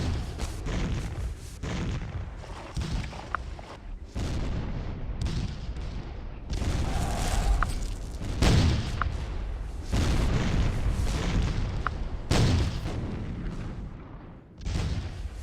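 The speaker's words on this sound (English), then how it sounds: "Barlow moved his cannons of the Battery G in between the line regiments to blast the rebels with canister." Civil War cannons of Battery G fire canister at Gettysburg in the strategy game Scourge of War: Gettysburg, a dense run of heavy booms and sharp blasts that overlap in a near-continuous barrage.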